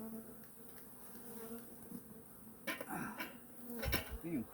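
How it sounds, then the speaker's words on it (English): Agitated honey bees crowd the top of an open hive under smoke, their continuous buzzing hum rising in intensity with a few clattering knocks of hive tools and frames. "Being crazy bees."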